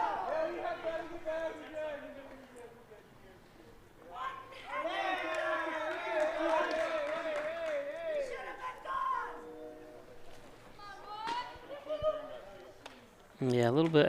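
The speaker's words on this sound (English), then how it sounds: "I think you can hear the crowd a little upset" At a summer-league baseball game between the Danville Gliders and Hornell Steamers, the crowd lets out rising, mildly upset shouts and groans in a distant swell, under steady play-by-play commentary.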